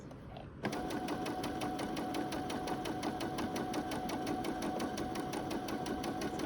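Sewing machine running a straight-stitch seam on a garment, starting abruptly and then holding a steady, rapid mechanical chatter with an even needle rhythm, close and without pause.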